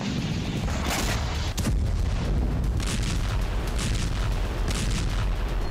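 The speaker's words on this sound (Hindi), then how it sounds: "तो कहीं आर्टिलरी शेल और एमएलआरएस से बारूदी भूचा" Artillery shells and MLRS rockets striking during an attack on Russian soil, a dense, continuous rumble of blasts and booming impacts heard alone with no talk.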